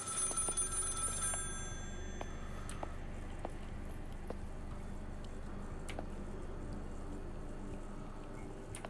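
An old-fashioned telephone bell rings loudly with sharp metallic trills during the first second and a half inside the Maid of Sker horror game, after which faint clicks and a steady low ambient hum continue alone.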